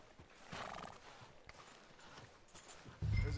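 Horse hooves clip-clop in the video game Red Dead Redemption 2, faint and irregular steps with a soft snort, ending in a louder thump near the close.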